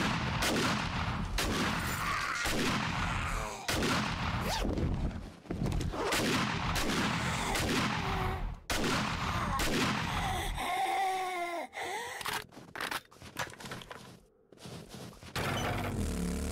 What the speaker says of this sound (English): The shotgun makes real quick work in those quests.